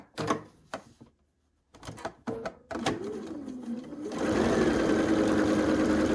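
A sewing machine stitches string-pieced quilt blocks for a pinwheel queen quilt, starting with several short, close bursts and pauses, then settling into a loud, steady continuous run.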